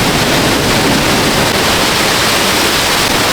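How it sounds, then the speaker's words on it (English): Niagara Falls roaring from right underneath the falls, a loud, constant broadband rush of crashing water with no pauses and no voices. "So we are right under the falls here, and you can see it's very loud here."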